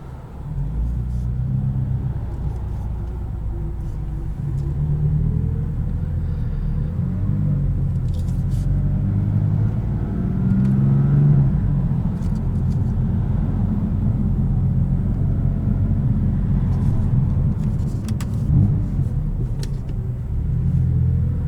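A 2017 BMW M4 Competition with a DCT gearbox rumbles along at low speed in slow traffic, a steady deep engine drone heard from inside the cabin, with slight swells in revs throughout.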